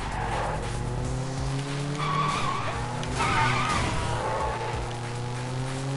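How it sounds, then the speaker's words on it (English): A car in the open-world game Sleeping Dogs drives hard with a steady engine drone while its tires squeal and skid through repeated screeching slides, loud and close with no talk over it. "I suck at driving on this game."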